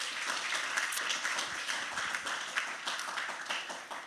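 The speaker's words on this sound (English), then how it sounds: "perhaps we could start with a round of applause for Dr." A lecture audience claps for a guest speaker at a computational biology talk, continuous mid-sized applause from a roomful of people, steady then tapering near the end with no voices.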